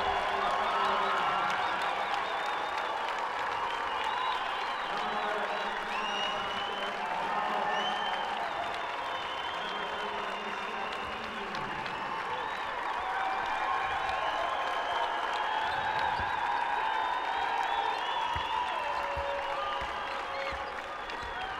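A home crowd at a women's college basketball game gives its seniors a sustained ovation, steady applause and cheering with scattered whoops holding loud and even throughout.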